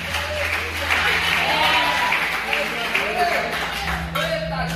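Church congregation applauding during a worship service, a broad, steady clapping wash running underneath a voice speaking over it, with a low sustained tone in the background.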